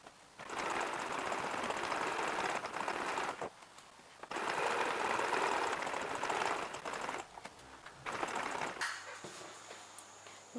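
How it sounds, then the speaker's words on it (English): Sewing machine stitching fabric pieces of a tree skirt together, a fast steady rattling hum in two long runs separated by a short pause, close and loud, ending with a quieter mechanical whir. "So we're going to sew right between the two here."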